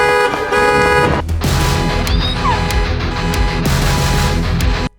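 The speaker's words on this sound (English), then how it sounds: "what you hear in my rescored scene is not the original car alarm" An original car alarm sound taken from a film scene: a loud electronic tonal siren with steady, buzzing harmonic tones and brief pitch sweeps, sounding alone for about five seconds before cutting off abruptly.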